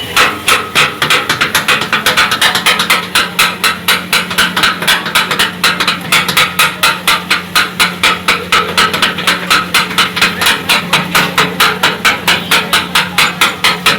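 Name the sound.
chopping parotta on a griddle for kothu parotta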